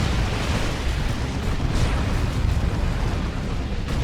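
Rocket run strike in Dawn of War 2, a 3v3 match, a dense continuous roar of overlapping explosions and booms with no clear gaps, loud and close throughout.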